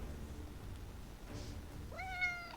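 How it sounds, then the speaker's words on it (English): A fluffy pet cat gives a short meow close to the microphone near the end, a clear rising cry over a quiet room hum after a couple of seconds of near silence. "A little meow from the microphone?"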